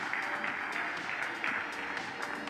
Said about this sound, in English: A round of applause for my fantastic panelists this afternoon